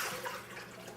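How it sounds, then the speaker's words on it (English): Hot tap water pours into a saucepan in a kitchen, a brief steady splashing rush, close and fairly soft. "then I'm going to fill up this saucepan with some hot water"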